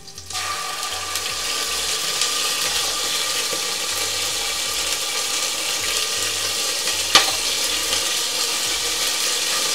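Ginger garlic paste fries in a hot pan with a steady, loud sizzle that holds throughout, broken by one brief clink midway.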